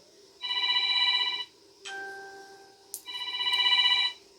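A mobile phone ringtone rings: a bright, repeating electronic melody plays for about a second, breaks for a brief sustained tone, then plays again, loud and close.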